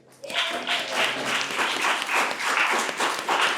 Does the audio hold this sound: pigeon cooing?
no